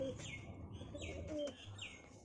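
Female Jorsa-breed pigeons coo softly with low, repeated rolling calls and a few chirps, close by and alone without any talk over them.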